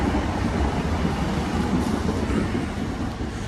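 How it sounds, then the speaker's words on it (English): A passing train gives a loud, steady, low rumble with broad rushing noise that holds throughout, close by, with no voices over it. "Look at the choo-choo train."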